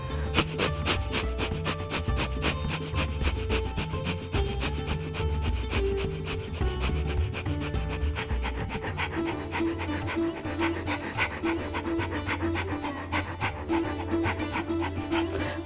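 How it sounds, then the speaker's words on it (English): Rapid, steady Breath of Fire yoga breathing, forceful rhythmic exhalations pumped through the nose in a fast even pulse, close and continuous over a soft background for the whole stretch. "And let's do Breath of Fire."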